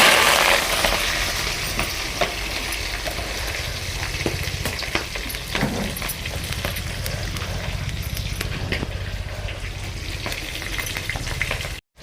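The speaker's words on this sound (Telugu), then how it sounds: "ఇప్పుడు కట్ చేసుకున్న పచ్చిమిర్చి ఎర్రగడ్డ కరివేపాకు అయితే వేసుకుందాం" Onions, green chilies and curry leaves sizzle steadily in a hot pan, a continuous close frying hiss with occasional clinks and stirring sounds and no talk.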